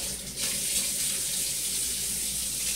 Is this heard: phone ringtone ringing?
no